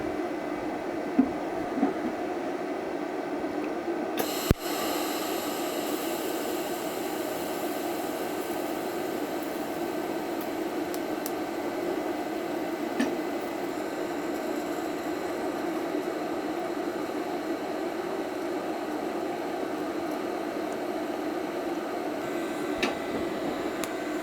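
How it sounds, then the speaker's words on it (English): Welding a liner into the muzzle end of an 1890 Winchester .22 short barrel gives a steady, quiet hiss and hum, broken by a few faint ticks and one sharp snap. "I'm welding the barrel liner into the muzzle end of the barrel right now"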